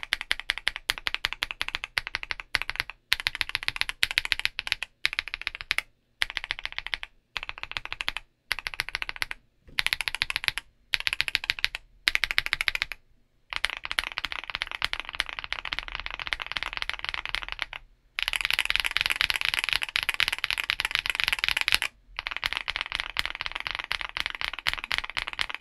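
Fast, steady typing on a keyboard with CIY Naraka linear long-pole switches, deep and fairly loud unmuted clacks in rapid bursts broken by brief pauses, close to the mic with no talk.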